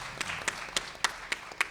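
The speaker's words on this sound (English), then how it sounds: "Yeah, please applaud." Scattered audience applause at a Durham literary gathering's first-anniversary celebration: a handful of sharp, evenly spaced claps, moderately close, over a soft room hum with no talking.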